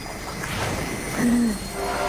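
Train rumbling past in the Mirror's Edge video game, a steady rolling roar with a brief squealing screech of wheels midway, fairly close and continuous.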